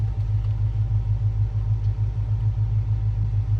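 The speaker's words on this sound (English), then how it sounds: "we're gonna drive through the garage" A vehicle rolls slowly through a tight-clearance garage toward a backyard with trees, giving a steady low engine rumble close by, with no talking.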